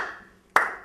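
A single sharp clap rings out on a comedy show, one bright crisp strike halfway through that decays quickly, after a faint fading tail at the start; no talking over it.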